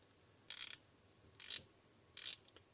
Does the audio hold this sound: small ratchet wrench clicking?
yes